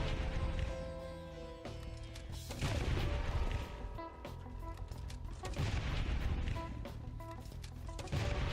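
Grenade launcher fire in the survival video game Last Day on Earth: several heavy booming shots rise from a steady layer of game music and ambience, loud and close, with no talking.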